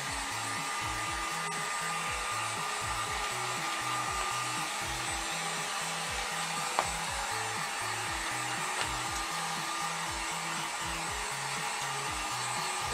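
A heat gun blows continuously over a carbon fiber wrap being applied to a computer, a steady airy whoosh with a low pulsing hum that stays close and constant throughout.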